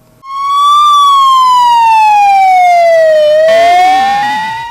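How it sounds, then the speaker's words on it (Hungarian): A fire engine siren wails loud and close, one long sweeping tone sliding slowly down and then turning back up as the truck arrives at a two-car collision drill on Petőfi Island in Baja. "Érkezik a tűzoltó autó Baján a Petőfi-szigeten egy közlekedési balesethez."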